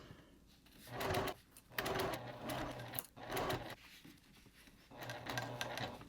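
A sewing machine stitches stretchy fabric for a hip bag in steady bursts, several runs of rapid mechanical whirring separated by short pauses, close and clear with no talking.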